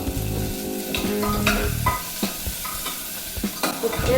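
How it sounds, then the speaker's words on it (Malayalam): Onions sizzle steadily as they are stirred in a hot pan for a vegetable kurma, with repeated scraping strokes of the spoon over a continuous frying hiss, close and fairly loud. "സവാള ഇട്ട് കൊടുത്തിട്ടുണ്ട്. ഇനി നന്നായിട്ടൊന്ന് ഇളക്കി കൊടുക്കാം"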